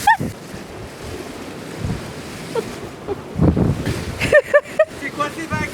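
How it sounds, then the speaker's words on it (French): Large ocean waves roll and crash with steady wind noise across the microphone, with bursts of louder surf. Voices speak over the water. "il y a tellement de vagues"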